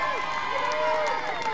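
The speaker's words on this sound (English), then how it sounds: "Loud crowd here today at the Griswold Great Get Together." Crowd at a wrestling event held during a three-day carnival, the Griswold Great Get Together, a steady, dense roar of cheering and shouting that stays loud throughout.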